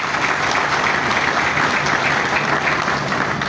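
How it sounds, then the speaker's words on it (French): Large audience applause at a university gathering, dense and steady, loud and continuous throughout without any talking. "Je pense que ça mérite des applaudissements"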